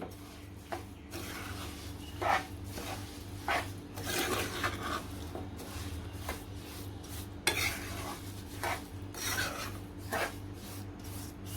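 A spoon stirs roasted spices and salt for a mango pickle in a metal pot, making close, irregular scraping and rasping strokes against the pot with a low steady hum underneath.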